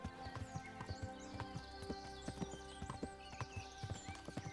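Horse hooves clip-clopping at a steady riding gait in the video game Kingdom Come: Deliverance, faint but clear rhythmic knocks with ambient outdoor sounds and no talking.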